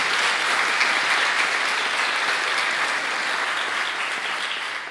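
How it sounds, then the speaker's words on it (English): Sustained audience applause fills an evening scholarship award ceremony honoring Martin Luther King Jr., a dense, steady clapping from a full room that holds at an even level throughout without voices. "Let's give her another round of applause."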